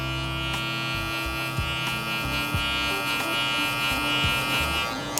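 Electric hair clippers with a 1 guard hum and buzz steadily during a self-cut taper, close and continuous, with small shifts in pitch as the blade moves through hair.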